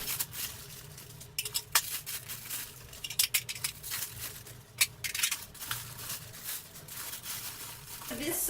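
Individually wrapped Crate & Barrel bowls being unwrapped at home, with close crinkling and rustling of wrapping plus scattered light clinks of the bowls, fairly quiet and without talk.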